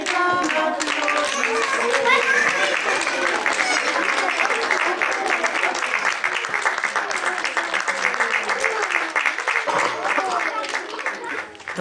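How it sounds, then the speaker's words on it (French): Children and adults in a French library media room applaud after story time, a sustained burst of clapping mixed with excited children's voices, fairly close and lively throughout. "Messieurs, mesdames, applaudissez, messieurs, mesdames."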